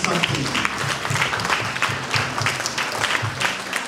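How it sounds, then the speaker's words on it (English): An audience at a Burundian diaspora event gives sustained clapping for an Australian member of parliament, a steady, fairly full applause with a few voices mixed in. "Please stand up and help me to give a big applause to Honorable Matt."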